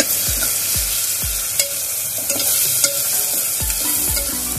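Tomatoes with salt being stirred in a pan for Mumbai-style pav bhaji, with a spoon scraping and knocking the pan at an uneven pace over a steady close sizzle.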